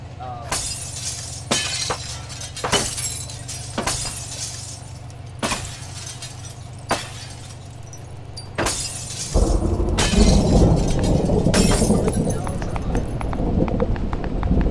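Glass blocks are broken in a block-building game, giving sharp, bright shatters at a steady rhythm of about one every second, then muffled crunching, with a low hum underneath and people talking at times.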